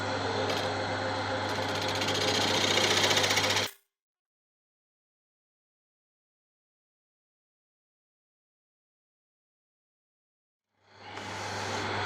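A wood lathe turns a prototype Art Deco candlestick with a steady motor hum and rough cutting. It stops abruptly into silence for several seconds, then starts up again.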